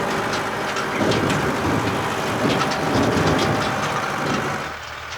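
A tractor pulling a trailer rumbles steadily across open ground in bustard country, a close, continuous low engine drone with rattling and jolting over the rough surface and no voices.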